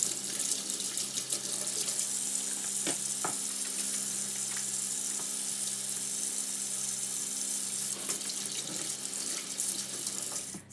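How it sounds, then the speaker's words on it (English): Tap water runs steadily into a sink as someone washes cookie dough off her hands in a home kitchen while baking chocolate chip cookies, a continuous close hiss with occasional splashes and no talk. "And Miss Jones is now going to wash her hands again because she has cookie all over them."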